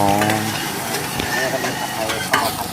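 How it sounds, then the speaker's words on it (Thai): Fresh noodles for pad thai are stir-fried in a hot pan, sizzling loudly and steadily while a spatula scrapes and stirs, with a voice talking faintly underneath. "ผัดไทยสดๆ ให้เราผัดเส้นสด"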